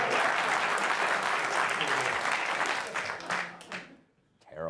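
A television studio audience breaks into loud, sustained applause that thins out and trails off near the end, with a brief sound returning at the close.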